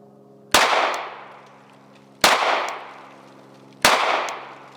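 Three sharp firearm shots spaced about every 1.6 seconds, each fired with a rushed trigger pull during accuracy practice, loud and close with a ringing decay after each report.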